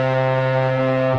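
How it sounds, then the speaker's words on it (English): A hummed intro recorded on a phone mic and processed in Logic Pro with stock pitch correction, a vocal plugin and an amp plugin drones as a loud, buzzy, harmonic-rich tone throughout. "I started with humming, like, from my phone mic"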